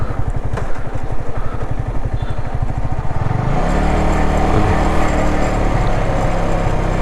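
A motorcycle descends a steep mountain road in first gear, its engine chugging rhythmically at first, then roaring into a loud, steady drone close to the microphone.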